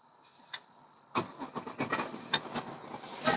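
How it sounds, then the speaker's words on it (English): A cold start of a 500-plus horsepower truck engine: a faint click, then the starter cranks in quick uneven bursts before the engine begins to catch, moderately loud and close. "Who wants to hear a cold startup on a 500 horsepower plus engine?"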